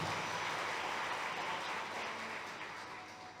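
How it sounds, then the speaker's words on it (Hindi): Audience applause welcoming a guest at a religious gathering in Jammu, a steady broadband patter of many hands that stays fairly level before slowly fading toward the end. "जोरदार तालियों से स्वागत है।"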